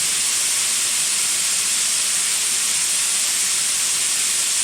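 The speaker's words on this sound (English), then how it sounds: "This is open full blast. Right now we're boiling carbon dioxide." Loud, steady high-pressure hiss of carbon dioxide venting from a 300 cubic foot tank with the valve wide open, a continuous roaring jet of boiling vapor that holds constant throughout.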